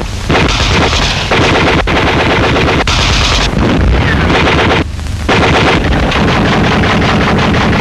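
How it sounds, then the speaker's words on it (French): Dense gunfire from hidden German troops in 1944–45 Alsace combat, loud bursts of machine-gun and rifle fire rattling almost continuously with brief pauses, heavy and close. "Des éléments allemands invisibles tirent sur nos soldats qui passent à l'offensive."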